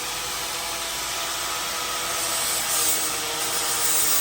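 Rough, steady abrasive grinding or rubbing runs continuously while welds are cleaned on a Yamaha XS650 chopper frame, close and moderately loud with no talking.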